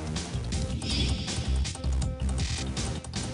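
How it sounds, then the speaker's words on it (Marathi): A horse kept inside a municipal council office neighs in a loud, close, shaky whinny that fills the moment, with some background noise around it. "नगर परिषदेमध्ये एका कंत्राटदाराने चक्क एक घोडा आणून ठेवलेला आहे"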